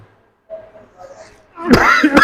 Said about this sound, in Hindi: खांसी कहाँ से है?